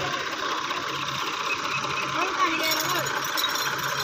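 A Massey Ferguson tractor engine runs steadily with a fast, rattling chug that stays at a constant moderate loudness, while people talk over it.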